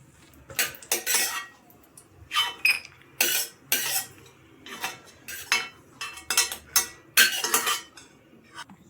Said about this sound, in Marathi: बघू शकता तुम्ही बदाम आपले छान भाजून,